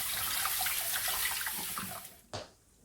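Cold tap water runs steadily over cooked cockles in a draining basket, a close, hissing splash that stops abruptly with a brief final gush and drip.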